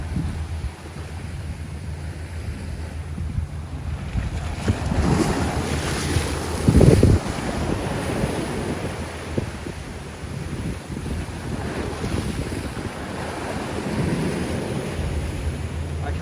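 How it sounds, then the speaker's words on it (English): Ocean waves slap against a fishing boat out at sea while strong wind buffets the microphone, with a louder surge of water near the middle and steady rushing surf throughout. "I call them warning waves because it's likely there's more to come."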